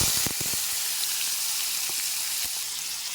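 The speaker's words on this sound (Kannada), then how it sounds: "ನಾನು ಸಣ್ಣಗೆ ಹಚ್ಚಿದಂಥ ಈರುಳ್ಳಿನ ಹಾಕ್ಕೊಳ್ತೀನಿ" Finely chopped onions sizzling in hot spiced oil for a tempering while making kaju curry: a steady, bright frying hiss with a few small pops and crackles near the start, no talking.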